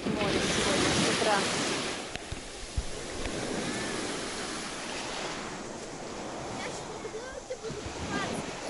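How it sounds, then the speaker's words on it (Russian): Sea waves wash onto the shore on a morning beach at Kemer, Turkey, a broad, steady hiss and rush of surf with wind buffeting the microphone, moderately close and fairly quiet. "Море сегодня, с утра."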